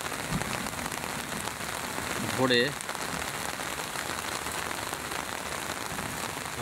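Steady morning rain pours over a rooftop garden in a dense even hiss, with a brief rising chirp of a voice in the middle.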